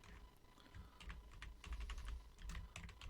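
Python commands are typed on a computer keyboard as a quiet, close run of irregular clicking keystrokes, with no voices.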